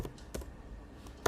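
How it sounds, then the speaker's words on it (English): Keys tapped on a computer keyboard while entering an npm install command in a terminal, a few sparse, quiet clicks spread over a second with a soft room hiss and no talking. "you have to go ahead and type npm"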